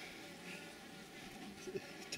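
Faint, steady insect buzzing close by, a low continuous hum with slight wavering and a couple of brief louder passes near the end.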